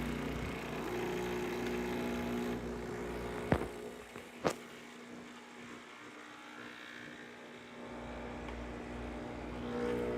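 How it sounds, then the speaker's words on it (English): A Breville Barista Express espresso machine pulling a shot gives a steady low pump hum throughout, with two sharp clicks a second apart and a quieter stretch before the drone swells again. "let's go ahead and pull this shot and see how it does"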